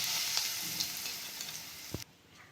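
Asafoetida sizzles in hot oil for chilli pickle, a close crackling hiss with a few pops that cuts off abruptly near the end, leaving a soft fading fizz.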